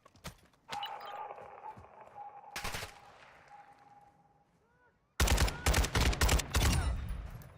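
RPK machine gun in Warzone 2, several sharp gunshots early on followed by a tone, then a loud burst of rapid automatic fire near the end.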